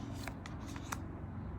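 Oracle and tarot cards being handled and shuffled, soft papery flicks and riffles, faint and close, over a steady low background hum.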